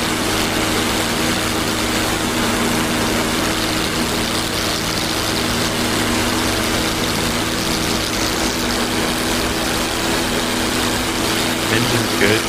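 A P-47 Thunderbolt's radial piston engine drones steadily in DCS World, a loud, continuous propeller hum with a low throbbing undertone that holds unchanged throughout, with people talking over it.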